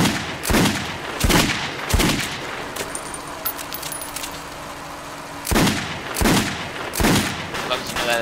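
Gunfire in the video game Metro 2033 Redux: loud, rapid bursts of shots, one cluster early and another after a short lull, with a low rumbling game ambience between them.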